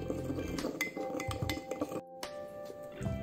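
A spoon stirring salt into water in a glass, with a quick series of bright clinks and taps against the glass, close and clear, with a brief pause before the clinking resumes.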